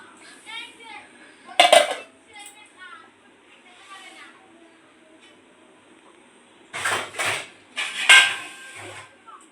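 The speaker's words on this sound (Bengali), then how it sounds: "এবার ঢেকে দেবো" A lid goes onto a pot of goat meat curry with sharp metallic clanks and clinks: one bright hit early, then a cluster of rattling knocks later, between stretches of nearby talk.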